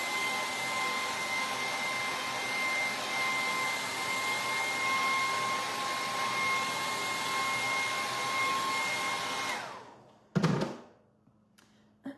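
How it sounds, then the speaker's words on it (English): A steady, loud whooshing hair dryer with a faint whine runs for about ten seconds while drying a stenciled sign, then cuts off, followed by a thunk and quiet room noise. "Let's just hit that with the hairdryer, just to be sure."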